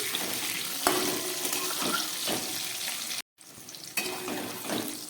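Capsicum pieces fry in a pan for a vegetarian paneer and potato dish, giving a continuous close sizzle and crackle with scraping stirs and one brief dropout near the end.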